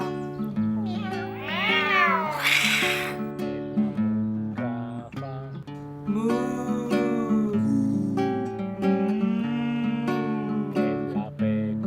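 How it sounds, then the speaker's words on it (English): A cat meows again and again, close and clear, with drawn-out, wavering cries over a steady tonal background. "ed il gatto fa Meow. Meow."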